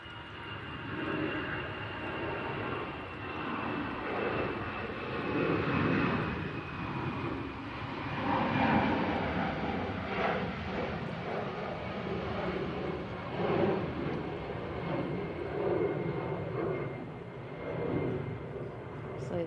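An Emirates airliner flies at Manchester Airport, heard as a steady, fairly distant broadband jet roar that swells and fades gently throughout, with possible faint voices underneath.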